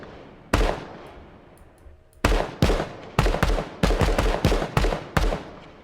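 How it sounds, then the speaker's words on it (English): Designed distant gunshot effect: roughly ten sharp reports, each with a long rolling tail, fired at irregular intervals. One shot comes first, then a pause, then a denser volley of closely spaced shots. "That sounds like a pretty cool distant gunshot to me."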